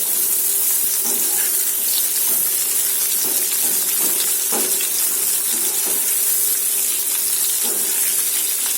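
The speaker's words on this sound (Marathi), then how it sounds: "त्याला थोडं हाय फ्लेमवरती शिजवायचं म्हणजे हे छान क्रिस्पी होतं" Bhindi sizzles hard over a high flame in a steady, dense hiss, with soft stirring knocks scattered through it; close and fairly loud throughout, no voices.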